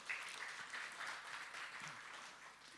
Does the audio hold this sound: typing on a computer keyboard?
no